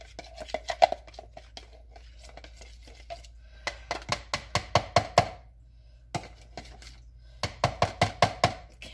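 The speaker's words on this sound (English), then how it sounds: "So just mix it up with a spoon, that's fine." Lemon chiffon pie filling with eggs is stirred by spoon in a bowl, giving quick clusters of close tapping and scraping strokes separated by brief pauses, with no voices.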